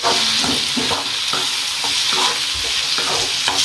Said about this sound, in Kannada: ಸ್ವಲ್ಪ ಖಾರ ಹಾಕ್ಕೊತೇವೆ ನಾವು ಒಂದು ಅಷ್ಟು ಖಾರ ಈಗೆಲ್ಲ ಕುಡಿಸಿ ಫ್ರೈ ಮಾಡ್ಕೊಂಬಿಡ್ತೇವೆ ನಾವು